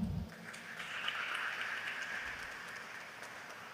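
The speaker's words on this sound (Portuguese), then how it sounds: "Uma salva de palmas" Faint, steady applause from an audience at a legislative forum on jobs and entrepreneurship, a soft, even wash of clapping that holds for several seconds without voices over it.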